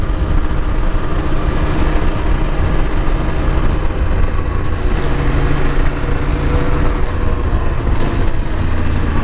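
A CFMOTO 800 MT-X motorcycle accelerating on a road, its engine giving a loud, continuous rough roar under heavy wind rush that stays strong throughout with no clear pauses.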